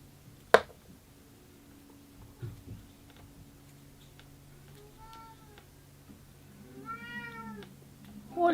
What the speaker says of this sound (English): What do you want, kitty?